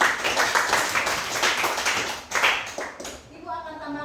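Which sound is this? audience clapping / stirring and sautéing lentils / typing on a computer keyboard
audience clapping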